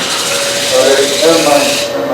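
A wooden piece is sanded by hand at a woodworking club meeting, a close, steady raspy rubbing in short strokes, with faint voices underneath.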